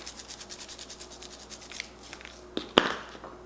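Hands rubbing salt and pepper into a raw turkey breast for a crockpot, giving a soft, rhythmic run of close brushing strokes that ends in a couple of sharper handling knocks.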